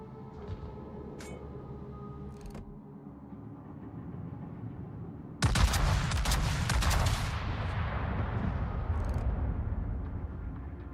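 Heavy naval guns firing a salvo in the World of Warships naval battle game, one sudden loud booming blast with crackling shell noise that rolls on and slowly fades over a low engine hum.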